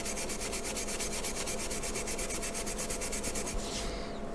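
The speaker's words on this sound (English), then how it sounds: "I'll take the steel wool and just sand them, steel wool this smooth like this." Steel wool rubs plastic parts of a 1/48 scale Monogram C-47 model kit in quick, even back-and-forth strokes, a close, rhythmic scratchy sanding that stops near the end.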